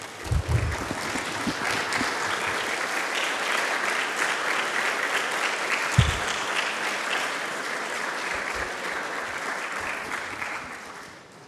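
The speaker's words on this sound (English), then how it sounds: "I want class of 2026 to stand up and applaud and say thank you to all your parents" A standing graduating class of physical therapy students at a white coat ceremony applauds their parents, a large, steady crowd of clapping that holds for over ten seconds before tapering, with a few low thumps.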